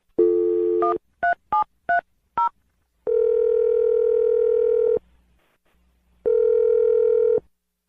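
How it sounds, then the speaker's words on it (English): A telephone dial tone sounds, then a quick series of five dialing beeps, followed by two long ringback tones separated by silence, all clear and close with no talking. "We're going to dial the phone number right now"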